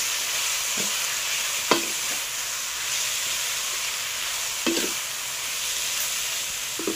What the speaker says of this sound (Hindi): पहले हम इसमें चिकन ऐड कर देते हैं और चिकन शामिल करने के बाद आपने इसको अच्छी तरह से पहले मिक्स कर लेना है।